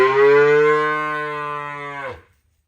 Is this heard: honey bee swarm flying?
no